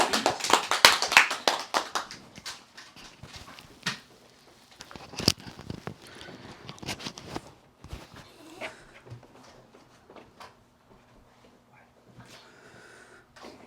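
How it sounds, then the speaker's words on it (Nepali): Audience at a Christian church gathering applauding to welcome a speaker: a dense burst of many hands clapping that thins into scattered claps and fades to light, sparse taps. "हामी माइकल दाइलाई हामी ताली बजाएर हामी स्वागत गर्नेछौँ"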